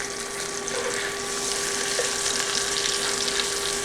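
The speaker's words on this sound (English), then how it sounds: "Can you hear the sizzle, guys?" Cured pork tenderloin sizzles in butter in a pan, a steady, dense frying hiss that holds even throughout with no voices.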